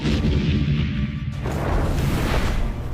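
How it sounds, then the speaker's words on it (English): An Iron Dome battery launches a Tamir interceptor missile with a loud, sustained roaring blast that swells into a broad rush of noise and stays heavy through the end. "The system launches a Tamir interceptor missile."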